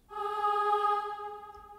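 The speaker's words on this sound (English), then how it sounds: "It's kind of like a choir, kind of big sound. You can find this in Omnisphere" A synthesized choir vocal sample from Omnisphere holds one sustained, rich chord for under two seconds, swelling in and fading slightly, clean and alone.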